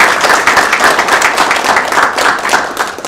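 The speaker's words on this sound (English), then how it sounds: "So a round of applause for our families" Dense, loud applause from a gathered audience of families and students at a school award presentation, a steady wash of many overlapping claps with no gaps and no speech.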